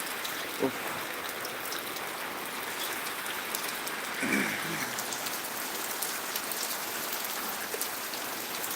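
Heavy rain pours steadily in Changanacherry, Kottayam, Kerala, a constant broad hiss of drops on surfaces with a couple of brief soft knocks.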